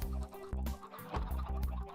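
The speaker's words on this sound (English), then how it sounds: "I completed the redstone circuit and the chicken farm was now fully up and running." Minecraft chickens on an automatic redstone chicken farm, a string of short repeated clucks in a quick uneven rhythm over a low steady hum, fairly close and moderately loud with no talking.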